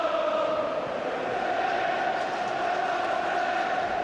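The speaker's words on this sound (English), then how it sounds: "this is perhaps the most subdued Rangers crowd I've seen in many a long day" A subdued Rangers football crowd at the 1998 Scottish Cup Final against Heart of Midlothian, a steady distant murmur of massed voices, fairly loud but without distinct cheering or chants.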